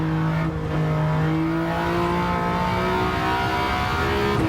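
A 3-cylinder car engine revs hard in Gran Turismo 7 during laps around Tsukuba, a steady droning note with rising harmonics that climb and reset through gear changes, loud and continuous throughout.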